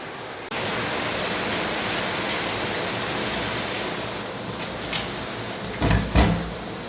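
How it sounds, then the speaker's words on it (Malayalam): Heavy rain pours down steadily, a dense, loud, unbroken wash of noise that holds from start to finish, with a couple of brief knocks near the end. "നല്ല മഴ പെയ്യുന്നുണ്ട് കേട്ടോ"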